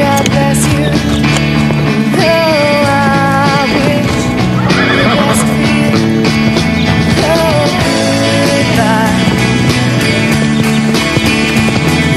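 Horses neigh and whinny again and again over steady hoofbeats and a music bed. The sound stays loud and close throughout, with no talking.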